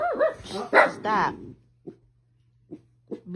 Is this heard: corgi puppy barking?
yes